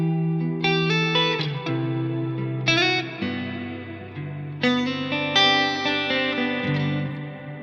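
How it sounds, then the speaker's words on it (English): Electric guitar chords layered with delay and reverb build into an ambient wash, each strummed chord ringing out and trailing into echoing repeats that blur together into a sustained background swell. "when I combine the delay and the reverb tones"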